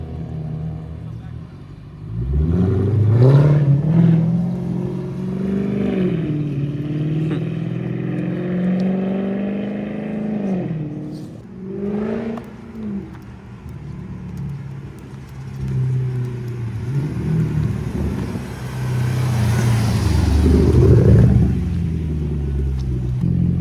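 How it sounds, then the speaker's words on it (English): A 10-year-old Mercedes-Benz W204 C63 AMG V8 idles and revs close by as it is moved, with deep rumbling swells and rising throttle sweeps, while people talk intermittently over the engine. "I'm gonna move this car in there."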